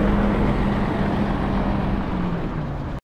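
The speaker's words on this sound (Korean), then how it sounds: "러시아의 차 소리" Road traffic on a street in Irkutsk, Russia, a steady close engine drone and tyre rumble from passing vehicles that holds evenly for three seconds, then cuts off abruptly.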